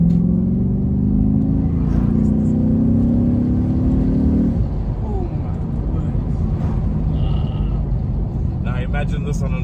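An Audi B7 RS4 Avant with a 420 bhp V8 revs loud and close, the engine note climbing in rising pulls for about four seconds before settling into a rumbling idle, with people talking over it.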